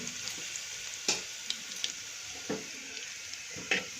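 Garlic and a pinch of asafoetida frying in hot oil for rajma masala, a steady close sizzle with a few sharp spits and crackles popping out over the hiss.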